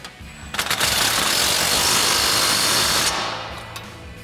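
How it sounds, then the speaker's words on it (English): An impact wrench with a 21mm socket and extension tightens a nut on a Jeep Wrangler JK suspension lift, sounding as one loud, continuous rattling burst of about two and a half seconds, with short taps before and after. "we can go ahead and tighten this down using our 21mm socket and extension on our impact"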